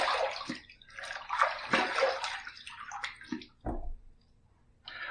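Running water splashing over a safety razor as it is rinsed after a shaving pass, irregular close gushes and splashes with a couple of sharp knocks, then a brief quiet gap before the flow resumes.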